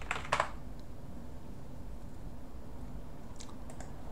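Computer keyboard keys clatter in a quick burst of typing a web address, then stop, leaving a faint room hum with a few soft clicks near the end.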